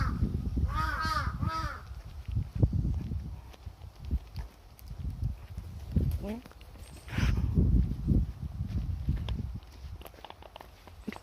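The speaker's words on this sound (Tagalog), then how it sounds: "Nakakakilabot tong uwak na to." Several harsh crow caws ring out early, close and loud, with another call midway, among footsteps, clip-clopping and people talking.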